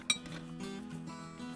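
Pans clinking and rattling together inside the cooker unit of a Nissan NV200 Combi campervan conversion, one sharp metallic clink near the start followed by quieter, lingering resonant rattling.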